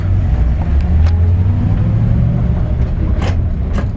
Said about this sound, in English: She fires off with a touch of a key